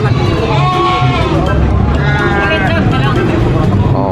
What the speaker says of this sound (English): The small little lamb.